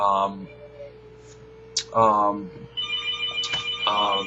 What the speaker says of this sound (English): I know you got the phone ringing in the back.